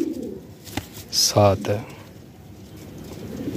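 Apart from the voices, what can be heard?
pigeons cooing, red pigeon for sale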